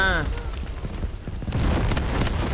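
Loud bursts of gunfire in the PC shooter Delta Force Hawk Ops, with repeated shots and a heavier volley near the end, over game sounds.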